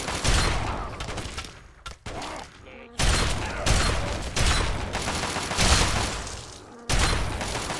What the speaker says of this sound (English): Another pitched battle between mutants and mercs.